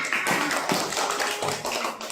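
A classroom full of students clapping hands together for their classmates, a dense continuous patter of claps lasting a couple of seconds, fairly close and steady.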